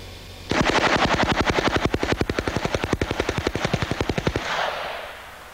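A Calico M950 submachine gun dumps a magazine of old Egyptian ammunition in one long, fast, evenly spaced burst of loud close shots lasting about four seconds, followed by a fading echo.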